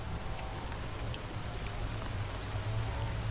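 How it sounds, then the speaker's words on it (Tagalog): Heavy rain pours down steadily outdoors at a rocky fishing spot, a dense continuous hiss with a low rumble underneath and no voices. "lakas na ng ulan"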